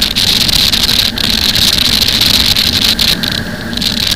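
Loud motorboat engine drone with rushing water and wind buffeting the microphone, steady throughout.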